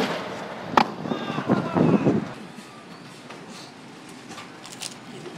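Magic fireworks pop off in a quick cluster of sharp crackles and bursts, loud up close at first and then thinning out into scattered faint pops over a low background.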